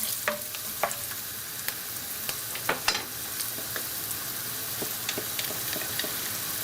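Tempeh sambal frying in a pan, with a continuous close sizzle and scattered light stirring clicks and scrapes, no one speaking.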